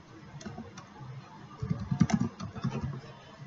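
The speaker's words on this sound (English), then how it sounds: "we have to type in our details, then candidate number." Typing on a computer keyboard, a quiet, close run of soft irregular key clicks that grows busier partway through.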